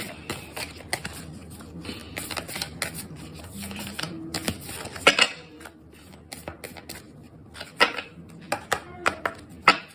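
Rapid papery clicks and light slaps of oracle cards being shuffled, in quick irregular bursts with a few sharper snaps, close up and fairly loud.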